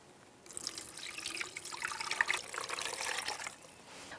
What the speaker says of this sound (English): I just put all of the ingredients into the pitcher